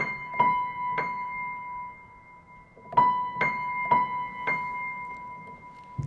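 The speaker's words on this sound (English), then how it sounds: "the music stops and you hear this spooky two-note motive" Sparse two-note piano motive from Kulesha's Two Pieces for Piano: pairs of sharp struck notes with a sustained ringing tone between, separated by long pauses, played alone and fairly quiet.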